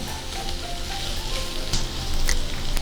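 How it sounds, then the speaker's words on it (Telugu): Onions with curry leaves sizzle steadily in a pan, a dense continuous frying hiss with faint stirring clicks, close and fairly loud throughout. "ఇప్పుడు ఈ ఉల్లిపాయలు ట్రాన్స్పరెంట్ అయ్యే వరకు వేయించుకోవాలి."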